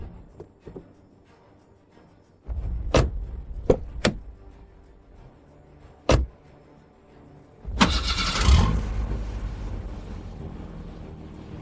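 A car's engine cranks and roars to life after several door thunks and shuffling as people climb in hurriedly, the starting burst loud and close, then settling into a steady idle.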